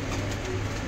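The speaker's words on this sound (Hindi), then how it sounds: "ये बहुत ही लाजवाब कबूतर है।" A prized Hyderabadi house pigeon coos softly in a short, steady burst over low background hum, close and continuous with no talking.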